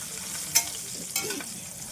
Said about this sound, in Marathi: एक दोन मिनटं आपण टाकू तेलामध्ये परतून घेऊया